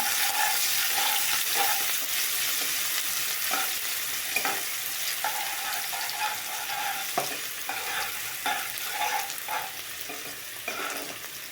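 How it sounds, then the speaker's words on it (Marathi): Onion frying in oil for a mushroom masala gives a steady, close sizzle, with regular stirring scrapes and knocks from a utensil against the pan throughout and no speech. "आता कांदा टाकू आपण छान परतून घेऊ"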